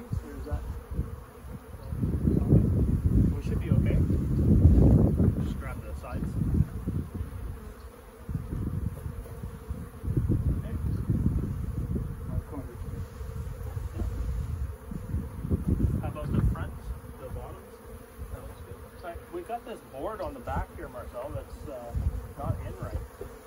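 Bees in a hive buzz loudly and continuously, swelling and fading in dense waves up close, with a person speaking occasionally underneath.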